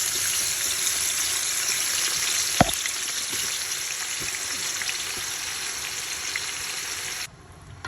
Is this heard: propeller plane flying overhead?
no